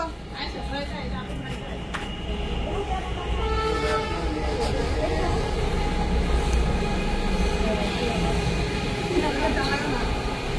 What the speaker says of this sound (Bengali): ট্রেন যাচ্ছে, দেখো ট্রেন যাচ্ছে।